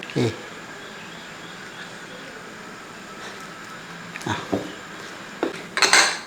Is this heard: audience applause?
no